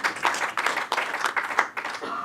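Studio audience applause during a raw-feeding pet food Q&A in Australia, a steady wash of clapping for about two seconds that fades slightly at the end, fairly close and loud, with no talking over it.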